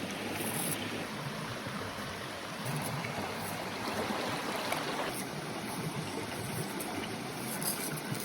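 River water flows steadily and close by, a continuous rushing wash of broadband noise with no speech, as root crops are rinsed of clinging soil in the stream.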